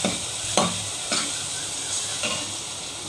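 Turmeric stirred into softened tomato masala in a pan for taro root curry, a low sizzle with three or four distinct scraping strokes of a spoon, close and clear.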